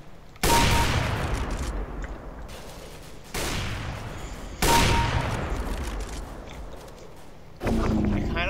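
Gunfire in Counter-Strike: Global Offensive comes as several loud bursts of rapid automatic shots, each followed by a lingering rumble, with pauses between the volleys.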